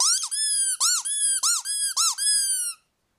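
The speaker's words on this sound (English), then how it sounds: "play the squeaky noise" A Spitting Image puppet figure lets out a close, high-pitched squeak in a rhythmic series of about six rising and falling chirps, repeated in quick succession and then stopping abruptly.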